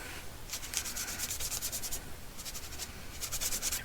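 Paint is rubbed onto a junk journal page in short repeated scratchy strokes, coming in quick rhythmic bursts with brief pauses, close and fairly quiet.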